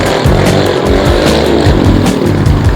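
Thumpstar TSB250 dirt bike on a test ride, its engine revving loud and close with repeated rising and falling throttle bursts throughout, no talk.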